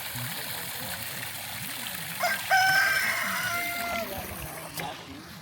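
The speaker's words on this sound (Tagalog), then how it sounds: "Yung mga manok." A rooster crows loudly for a couple of seconds over a steady outdoor background, with a brief clucking sound afterward.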